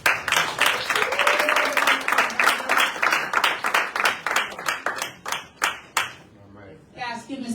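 A town hall audience at a human and civil rights meeting claps. The first part is dense and loud, then it thins into scattered, separate claps that fade out. Voices are faintly heard underneath.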